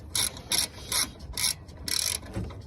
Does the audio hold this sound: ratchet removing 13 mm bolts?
yes